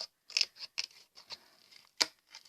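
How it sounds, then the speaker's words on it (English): Scissors snip through a paper owl template for a fridge magnet craft, a series of short, crisp, close cuts spaced irregularly, quiet and without talk. "now with a pair of scissors"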